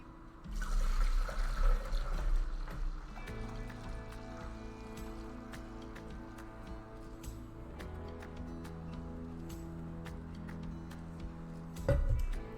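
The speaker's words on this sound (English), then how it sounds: "Now I'm going to pour my milk." Milk is poured into a container for making yogurt, a soft continuous liquid stream with gentle gurgling and a few small clinks, fairly quiet and close, ending with a brief louder knock.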